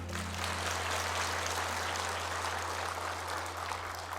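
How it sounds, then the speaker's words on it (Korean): A church congregation claps together during a televised sermon, a steady dense wash of applause holding evenly throughout over a low constant hum. "박수 좀 한번 쳐줘봐요."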